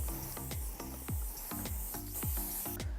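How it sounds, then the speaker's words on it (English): Hairspray sprays into the hair roots in short, close hissing bursts, about seven or eight quick pumps in a steady rhythm. "take your hairspray and spray it into the root"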